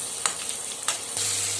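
Finely chopped bell pepper (capsicum) sizzling as it is stir-fried in a hot pan for an egg bread sandwich; a steady close sizzle with a few light scraping stirs, no voices.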